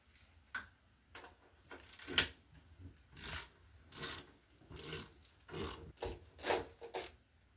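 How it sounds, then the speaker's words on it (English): An 11mm deep impact socket on a wrench backs nuts off a toilet base, making bursts of rapid ratcheting clicks and rasps in short, close strokes separated by pauses. "I'm using an 11mm deep impact socket to remove the nuts from the base of this toilet"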